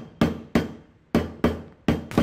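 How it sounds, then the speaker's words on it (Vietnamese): Lemongrass stalks get crushed with a knife on a cutting board, five sharp heavy thuds at an uneven rhythm, each ringing briefly before fading, close and loud. "Xả hai cây đem đập dập hết nè."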